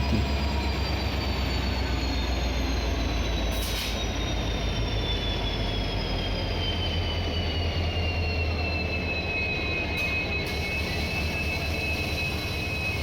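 A train hauled by a WDG-4 diesel locomotive rumbles steadily into a station platform with high metallic wheel squeals sliding in pitch, a continuous loud roar throughout.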